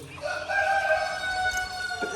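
Live chickens and ducks for sale at an Eid market in Italy, with a rooster crowing in a sustained, moderately loud call and faint market background.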